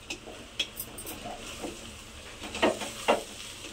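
Food fried in a pan is stirred in small amounts, with a faint background sizzle and a few soft scraping clinks and scrapes spread unevenly through the moment, no speech.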